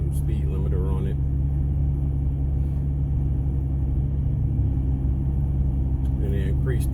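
A tuned Dodge Journey with the speed limiter removed and torque raised drones steadily while driving, a loud continuous low engine rumble throughout with a voice talking over it.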